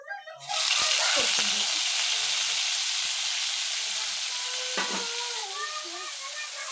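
Onion, tomato and garlic gravy hits hot oil with a sudden loud sizzle, then keeps frying in a steady hiss while a spoon clinks and scrapes the pan now and then.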